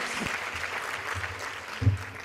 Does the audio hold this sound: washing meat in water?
no